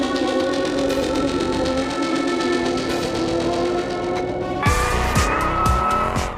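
A Highland Green 1968 Ford Mustang tears through a car chase: a sustained, loud engine roar builds, then tires squeal and skid in sharp bursts over revving in the final seconds.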